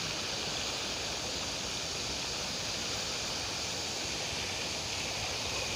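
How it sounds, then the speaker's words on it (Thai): Strong, steady rush of a fast-flowing stream beside a reservoir in a wildlife sanctuary, a dense continuous roar, constant in loudness throughout with no voices. "น้ำไหลแรงครับ"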